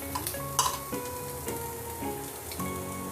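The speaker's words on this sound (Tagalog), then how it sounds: "Maglalagay lang tayo o lagyan na natin ng 2 teaspoon na minced ginger." Minced ginger frying in a little oil in a pan gives a steady soft sizzle, with several clinks and scrapes of stirring spaced through it and no talking.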